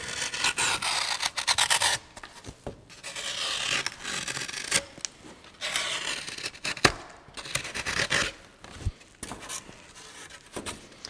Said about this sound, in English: So we rough out with the knife.